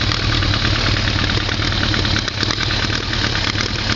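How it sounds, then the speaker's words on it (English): A Kawasaki ZRX motorcycle engine idles steadily up close, its loud, even rumble carrying a rapid chatter from its Mikuni carburetors throughout. "It does have the chatter that you'll find with the Mikuni carburetors."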